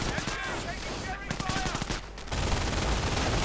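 An MG42 machine gun in the Company of Heroes strategy game fires rapid, dense bursts of shots in a fast rattling stream, followed by a heavier blast of battle noise.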